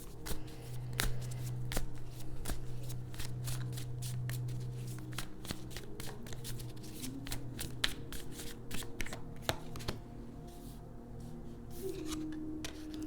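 Tarot cards being shuffled and handled at close range, a continuous run of crisp riffling flicks and soft card slides, with a faint low hum underneath.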